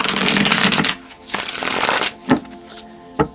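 A full deck of tarot cards is shuffled by hand in two long riffling runs followed by a few sharp taps as the deck is squared, close and crisp with no talking.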